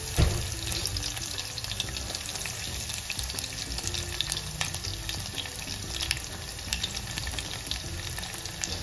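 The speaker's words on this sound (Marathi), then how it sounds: "तेल तापलं की मोहरी टाकायची, जिरे घालायचे, हे ठेचलेला लसूण," Mustard seeds, cumin and crushed garlic sizzling in hot oil in a home kitchen, a steady, fairly quiet crackling hiss with small pops throughout and no talk.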